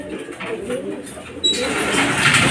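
Racing pigeons arrive at the loft during a fun race, with soft cooing and rustling of birds close by, followed by a louder burst of fluttering activity.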